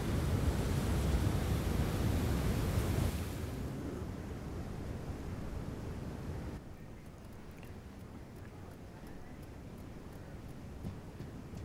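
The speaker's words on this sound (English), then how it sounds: "Okay, a waterfall of sand." A sand waterfall in the video game Journey pours as a soft, continuous rushing hiss that drops in level partway through and then settles into a quieter steady wash.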